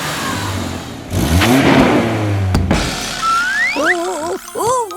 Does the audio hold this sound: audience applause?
no